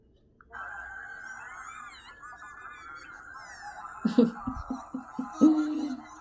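A voice run through a squawky, duck-like effect, warbling and nasal, ending in a few short honking quack bursts.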